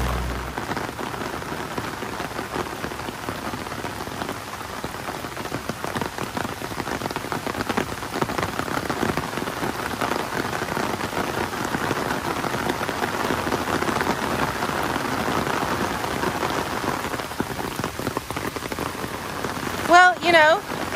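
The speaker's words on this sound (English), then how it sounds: "it is pouring down rain right now" Heavy rain pours steadily down in the woods, a dense, close hiss of drops on surfaces that runs throughout, with a brief louder knock near the end.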